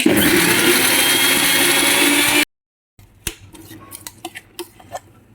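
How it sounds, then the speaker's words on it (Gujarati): A kitchen mixer grinder whirs loudly as it grinds dry corn without water, running steadily for about two seconds before stopping abruptly, followed by light clinks and taps of the jar and utensils. "સ્વાદ પ્રમાણે મીઠું નાખીશું પછી એને બંધ કરી પાણી વગર પહેલાં આપણે મિક્સર ચાલુ કરીશું"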